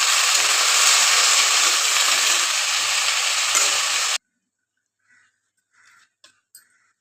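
Pumpkin leaves are stirred in a hot pan with salt and turmeric, making a dense, even hiss of frying for about four seconds. It then cuts off abruptly into near silence with a few faint clicks.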